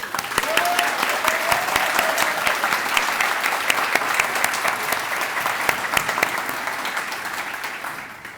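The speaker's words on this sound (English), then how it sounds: "How about welcoming Kelly with a round of applause?" A town audience gives a sustained round of applause welcoming Kelly during a State of the Town address, a loud, even wash of many clapping hands lasting over eight seconds and easing slightly toward the end.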